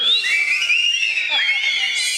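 An audience member whistles a shrill, wavering, continuous tune, loud and close, with a few gliding pitch changes over about two seconds.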